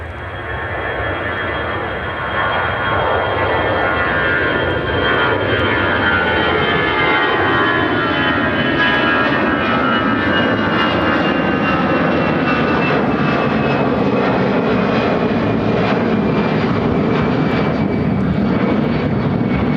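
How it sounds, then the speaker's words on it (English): Airbus A319 airliner taking off from Chicago O'Hare, a loud sustained jet roar that swells and holds steady for the full run, with engine whine tones gliding slowly through the rumble and no voices. "Airlines 1926 taking off to Philadelphia on the A319."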